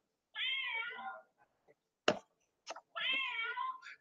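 A magnetic box plays a recorded cat meow when it opens: two clear drawn-out meows separated by a sharp snap and a couple of small clicks, close and loud, with no talking.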